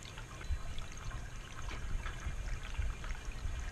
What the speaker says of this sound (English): the sound of the water, the fountain, the water splashing down the rocks